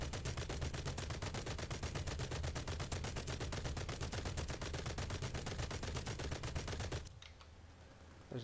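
Naval gunfire in War Thunder pounds in a rapid, continuous stream of shots for several seconds, then abruptly stops, leaving quieter background sound.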